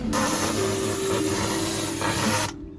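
A pressure sprayer washes something down, producing a loud, steady hiss of spraying water that runs for about two and a half seconds before cutting off abruptly.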